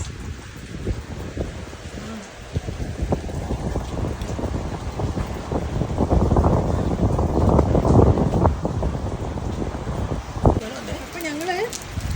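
Heavy rain patters steadily with gusts of wind buffeting the microphone, while people talk intermittently over the downpour and a voice hums briefly near the end.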